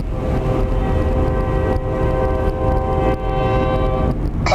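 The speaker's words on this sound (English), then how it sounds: "I think that was a train." A train passes close by on a small-town line, its loud rumbling wheels joined by a sustained, steady horn blast that holds for several seconds before fading slightly.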